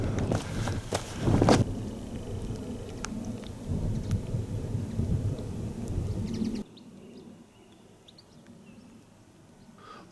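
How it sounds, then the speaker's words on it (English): Rain falls in Jaggers Clough, a valley in the Peak District, as a soft, steady patter outdoors, with a few gusty rumbles and footstep-like knocks before the sound drops quieter partway through. "Although there was some rain"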